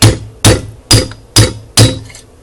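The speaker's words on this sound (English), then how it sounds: "Use just a really cool tapping hammer here and the right pin. We're going to go ahead and drop the first pin out" Five evenly spaced metallic taps of a small tapping hammer on a punch, driving a pin out of a Smith & Wesson M&P 9c pistol, each strike sharp and close with a short ringing decay, no talk.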